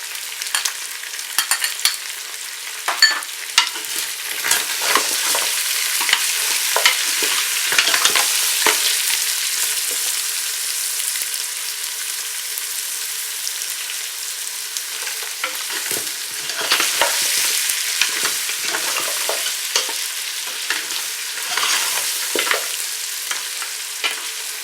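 Onions fry steadily in a pan for goat trotter paya, a constant hiss punctuated by clinks and scrapes as a spoon stirs them.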